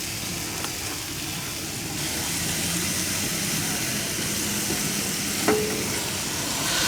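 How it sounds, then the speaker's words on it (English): Pork grills over a fire at a lunch outdoors during a deer hunt, giving a steady, close hiss and sizzle with faint background rumble and a couple of small pops. "we got pork grilling right there"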